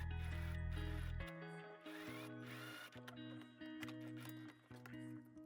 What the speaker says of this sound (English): And now I'm gonna sew this side in.